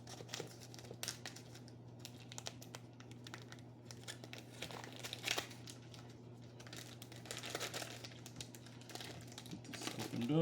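A package of beef cheek meat being opened gives faint, irregular plastic crinkling and tearing over a low steady hum, with brief sharper rustles toward the end.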